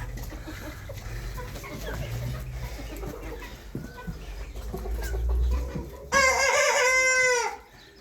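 Chickens cluck and murmur faintly in a yard, then a six-week-old rooster gives a loud, close, somewhat scratchy crow near the end.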